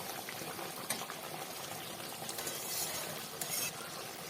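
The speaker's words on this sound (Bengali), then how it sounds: "জল নিয়েছি ঢাকনা বন্ধ করে সেদ্ধ হতে দেবো" Chicken simmering in a small amount of water in a covered pot while mustard chicken is made, giving a steady close bubbling hiss with a few brief clinks, no voices.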